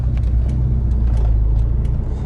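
A 1988 Chevrolet Monza Diplomata being driven, its engine giving a steady low rumble and road noise from inside the cabin, loud and continuous with no talk.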